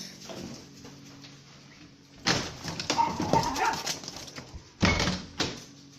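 Dogs outside bark and yip in loud, uneven bursts, with quieter whimpering and rustling between them and no voices over the barking.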